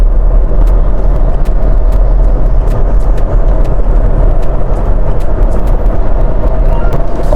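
A Renault Kiger RXZ accelerating to 80 km/h, a dense continuous engine and road-noise rumble heard from inside the cabin, loud and unbroken, with no talk.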